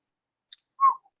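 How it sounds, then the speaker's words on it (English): A person whistles briefly, a short high chirp followed by a louder sliding whistled note and a faint trailing tail, close and otherwise quiet. "are you whistling?"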